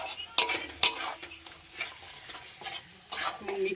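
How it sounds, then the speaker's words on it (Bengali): A spice paste of salt and turmeric for a Bengali katla fish kalia is stirred and fried in a pan, with repeated scraping strokes over a steady soft sizzle, close and moderately loud. "দিয়ে এবার মশলাটাকে আমি ভালো করে কষাবো।"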